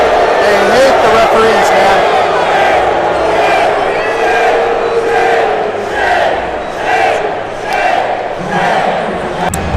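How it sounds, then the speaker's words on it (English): Angry crowd at a Portland Timbers football match roars and chants at the referees, a loud sustained wash of shouting with rhythmic swells through the stadium. "It's an angry crowd. They hate the referees, man."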